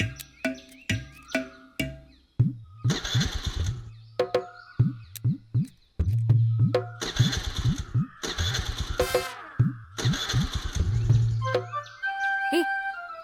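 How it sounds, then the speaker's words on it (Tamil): A motor vehicle, likely a scooter, cranks repeatedly but fails to start, giving a series of short starter whirs and sputters near at hand, with birds chirping in the background and voices talking between attempts. "ஏய், ஏன் வண்டி ஸ்டார்ட் ஆக மாட்டேங்குது?"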